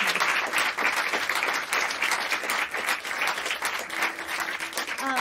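Applause from an audience at a small intimate concert fills the space, dense steady clapping holding at a strong level throughout with a faint voice emerging near the end.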